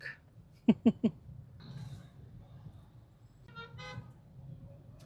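Saturday road traffic heard from inside a LeapMotor B10 electric car: three quick horn toots in a row, then a low, steady traffic rumble with a few faint tonal sounds further off.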